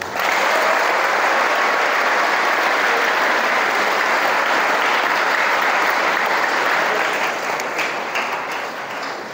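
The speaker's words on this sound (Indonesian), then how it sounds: "Tepuk tangan untuk kita semuanya." A crowd at an evening Islamic boarding-school Quran motivation gathering in East Lampung applauds in a dense, steady wash that holds for several seconds and tapers slightly at the end.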